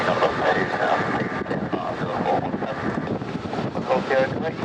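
Airplanes at Birmingham Airport in strong, gusty wind of around 40 knots: a continuous loud roar of engine and wind noise, steady throughout with gusting swells.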